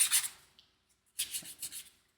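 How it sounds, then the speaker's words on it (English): Soft rasping strokes of sanding on a small model part, two short bursts separated by a brief pause, close and quiet. "I keep turning, I keep sanding the wrong direction"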